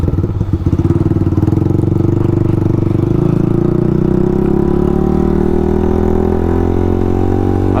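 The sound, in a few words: motorcycle riding in second gear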